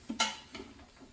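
Onions and green peppers stirred in an Instant Pot while they soften: a few sharp utensil clinks and taps against the pot, close and fairly quiet, irregularly spaced with soft scraping between them and no talk.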